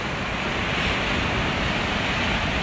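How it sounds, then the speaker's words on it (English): Ocean surf breaking on an Outer Banks beach, a steady broad roar of wash and spray, loud and continuous, with wind rumble on the microphone. "These are some sick waves."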